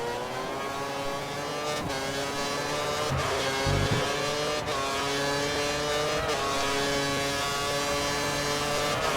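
Formula 1 car engine in the F1 2013 video game at the Australian circuit, racing with a rival close behind; a loud, continuous high-pitched engine whine with shifting revs and a few brief thumps, with no talking.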